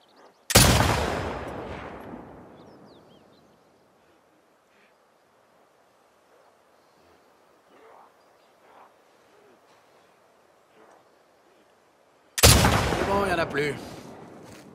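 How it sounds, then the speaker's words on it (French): A rifle fires in The Last of Us Part 2: two loud, sharp shots about twelve seconds apart, each with a decaying tail, and only faint scattered noises in the quiet stretch between. "Il me plaît bien, ce fusil."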